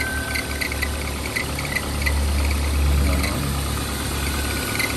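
A Toyota Accord engine idles under the hood during a repair check, a steady low mechanical hum with faint vibration, swelling slightly midway, with no talk.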